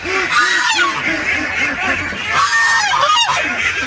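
Geese and ducks on a farm give repeated loud honks and quacks in a steady stream. The calls come close and overlap almost all the way through.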